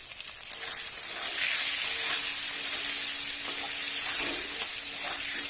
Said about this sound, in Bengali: অল্প কিছু সময়ের জন্য কিন্তু একটু নেড়ে চেড়ে নেব